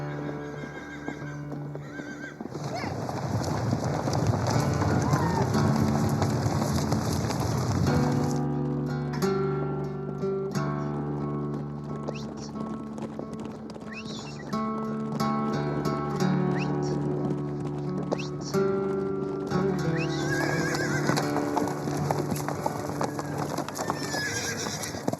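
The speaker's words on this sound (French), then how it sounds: "les chevaux du ranch sont relâchés dans les montagnes et passent la nuit en totale liberté" Ranch horses in the mountains around the Bitterroot ranch, with repeated whinnies and neighs over steady clip-clopping hooves, a continuous busy herd sound with several animals calling at once.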